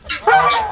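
A single loud, close honk from a waterfowl, a short nasal two-part call lasting under a second.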